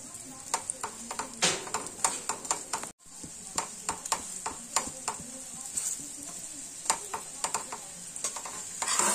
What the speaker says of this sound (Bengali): আমার একটা পরোটা ভাজা হয়ে গেল,